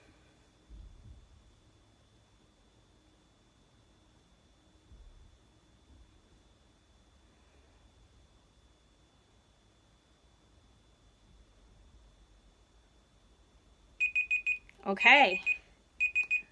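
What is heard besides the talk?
15-second timer alarm going off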